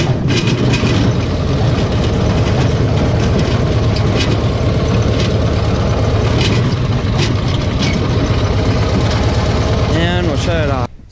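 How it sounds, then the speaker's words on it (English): A Cushman Truckster engine runs loud and close with a steady rumbling drone and rattly mechanical clatter, easing off near the end; a voice speaks over it. "Put it back in gear and we'll start it back up again."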